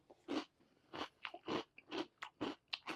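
Close, loud crunching chews in a steady rhythm, about eight distinct bites of crisp cereal with quiet pauses between them.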